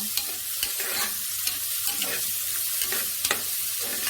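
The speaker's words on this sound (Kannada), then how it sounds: "ಈ ಥರ ಎಣ್ಣೆಯಲ್ಲಿ ಸ್ವಲ್ಪ ಫ್ರೈ ಆಗಲಿ." Onion and tomato fry in oil for cabbage palya, a constant sizzle broken by regular scraping strokes of a spoon stirring the pan, close and steady throughout.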